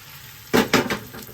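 Batter hits hot oil with a sharp hiss, followed by a few pulsing bursts of crackling sizzle that stay loud and close.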